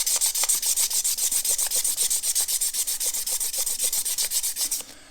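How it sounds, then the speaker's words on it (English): 600 grit sandpaper is worked back and forth over a metal engine part during a dune buggy engine install, a fast, steady rhythm of close, gritty strokes that tapers off at the end. "I've just got some 600 grit sandpaper, and we're just going to strap this"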